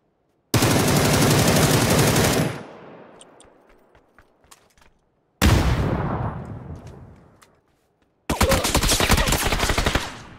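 Full-auto bursts from a Beryl M762 and an M416 in a PUBG one-on-one match: three long, loud, dense rattles of rapid gunfire, each followed by fading echoes and scattered single pops.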